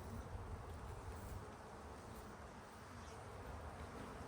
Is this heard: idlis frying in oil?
no